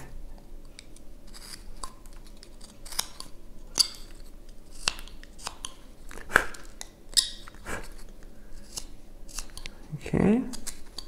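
Knife whittling a wooden wizard figure: scattered short scraping cuts and snicks close up, with occasional louder slicing strokes and a brief handling knock near the end.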